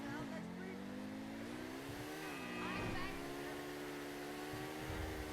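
Overflod Imorgon car engine in GTA Online, a steady droning hum that swells as the car picks up speed, continuous and close throughout.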